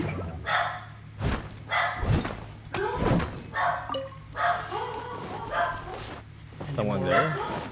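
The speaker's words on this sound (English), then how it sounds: "They bark at anything and everything" Dogs bark in repeated sharp bursts at moderate distance amid thuds and slams, heard while people chat during a Genshin Impact co-op session.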